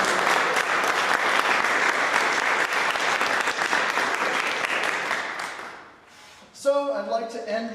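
Sustained audience applause after a lecture recital, dense and loud for about five seconds before fading out, followed by a few bright musical notes.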